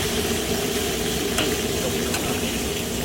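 Tilapia fries in a pan with no oil, giving a steady, loud, dense crackling sizzle that runs unbroken throughout, with no talking over it.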